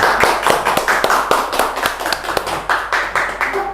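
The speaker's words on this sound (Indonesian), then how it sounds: "Tepuk tangan." Clapping from a small group, a steady burst of sharp claps lasting a few seconds, loud and close.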